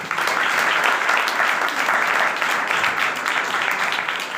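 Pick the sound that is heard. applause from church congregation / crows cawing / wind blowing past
applause from church congregation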